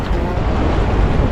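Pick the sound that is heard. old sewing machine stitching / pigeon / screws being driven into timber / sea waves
sea waves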